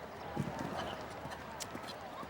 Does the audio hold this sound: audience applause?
no